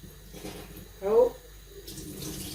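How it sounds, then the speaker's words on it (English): Water from soaked peas for Dutch snert pours into a kitchen sink in a brief splashing burst, followed by a quieter trickle. "But let's drain the peas."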